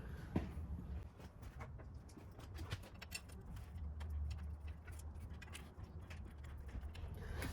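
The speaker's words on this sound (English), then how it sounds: "And then you want to bolt everything down." Bolts are tightened on a high mount alternator kit bracket in a Landcruiser engine bay, with soft ratcheting and metallic mechanism clicks running continuously at low level.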